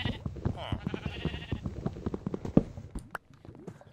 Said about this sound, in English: Oh, hello, Mr. Sheep. Mr. Black Sheep.